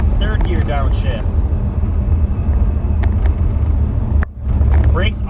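A Trans Am with a manual transmission rumbles as it downshifts from fourth to third gear, a steady low engine drone heard from inside the car with brief dips and swells, while someone talks over it.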